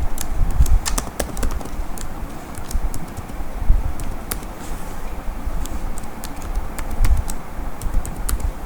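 Password being typed on a computer keyboard, a quick run of close, crisp key clicks in uneven bursts, no talking.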